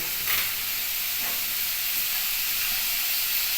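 Dhoka lentil cakes frying in oil in a kadai, giving a steady, even sizzle and hiss that runs continuously, close and moderately loud, with no talking.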